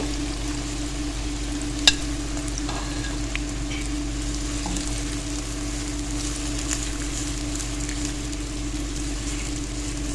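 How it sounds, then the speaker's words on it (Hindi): Onions frying in oil in a pan for chicken korma, a steady loud sizzle filling the whole stretch, with a single sharp spoon tap early on and faint stirring beneath. "इसमें सारा प्याज जो है ये हम डाल देंगे और इसको हमने अच्छे से फ्राई कर लेना है, गोल्डन कलर का।"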